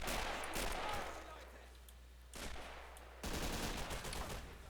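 Gunfire from a World War II battle in the video game Men of War: Assault Squad 2, a few loud bursts of rapid shots with dense crackle between them, broken into separate volleys.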